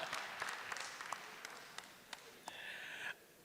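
Applause from a town hall meeting audience, a broad steady patter of many hands at moderate loudness, with scattered louder claps and a brief whistle-like tone near the end before it stops.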